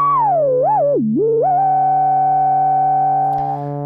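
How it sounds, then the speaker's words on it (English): A loud, pure sine tone from Minimoog filter resonance that swoops down and back up in pitch, then settles into a steady sustained note with a faint buzzy undertone. "we hear a sine wave happening above the, the sound of that is being produced by the oscillators"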